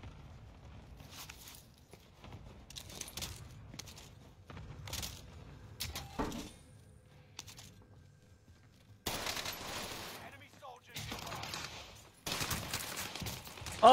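Bursts of automatic gunfire from a shooter video game, several loud broadband volleys of a few seconds each, separated by quieter stretches with faint footsteps and game ambience.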